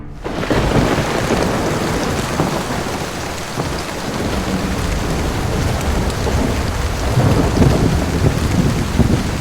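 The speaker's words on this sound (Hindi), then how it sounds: "लेकिन उस रात एक बहुत बड़ी गरजती हुई आवाज उन्हें सुनाई देती है। पता चलता है भारी बारिश के साथ अचानक बादल फट गया है।" A cloudburst brings heavy, dense rain pouring down together with deep rolling thunder, loud and continuous, with no voices.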